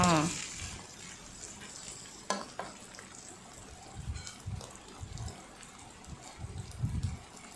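Fermented fish mixed with egg is stir-fried in a pan, with scraping and clinking of a utensil against the pan over a soft sizzle, in irregular bursts.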